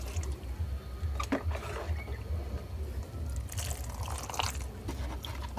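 Water poured onto the soil around a fertilized sapodilla tree to soak it, a steady low splashing and trickling close by, with a few brighter spatters along the way.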